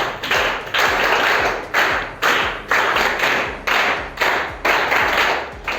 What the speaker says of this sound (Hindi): चलो ज़ोर से एक बार तालियां हो जाए